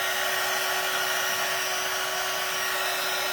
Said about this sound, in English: I'll hit this with the dryer.